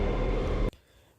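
Killer Twins switching control in Dead by Daylight produce a loud, dense rumbling burst of game sound effect lasting well under a second, then cutting off abruptly into quiet.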